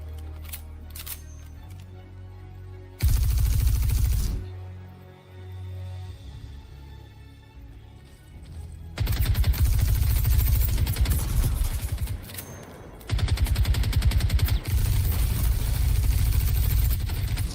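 Video game gunfire in Star Citizen comes as sustained loud bursts of automatic fire in several long stretches, separated by quieter gaps with engine-like rumble.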